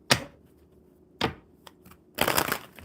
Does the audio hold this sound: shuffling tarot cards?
yes